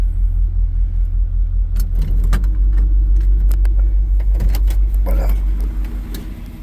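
A 1955 Chevrolet Bel Air two-door hardtop rumbles along with a deep, steady engine drone inside the cabin, a few clicks and knocks over it, easing slightly toward the end.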